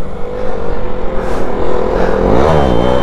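A KTM Duke 200 motorcycle revs hard during a wheelie, its engine roaring loud and close, with the pitch climbing sharply near the end.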